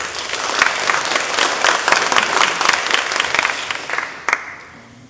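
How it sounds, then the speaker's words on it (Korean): Church congregation at a Sunday worship service applauding together, a dense, steady burst of many hands clapping that fills the room for about four seconds, then fades quickly to near silence. "그럼 박수 한번 쳐주세요."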